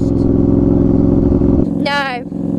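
A loud KTM Duke 790 motorcycle with an Austin Racing exhaust rumbles steadily close by at night, then a brief rising whine cuts through near the end.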